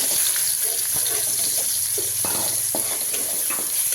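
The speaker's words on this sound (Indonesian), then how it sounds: "kita masukkan, kita tumis bumbunya seperti ini" Spice paste sizzles steadily in hot oil in a pan, a constant bright frying hiss with soft stirring knocks and scrapes.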